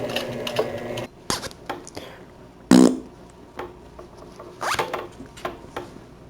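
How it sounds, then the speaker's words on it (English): A sewing machine runs a short zigzag stitch on summer shorts, joining a mud flap to the front panel, in a few brief bursts that start and stop with quiet pauses between them. "A little zigzag stitch here, which connects the mud flap on this side to the front of this side."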